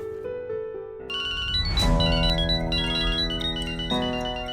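An electronic phone ringtone plays loudly and steadily, a bright repeating melody with no voices over it.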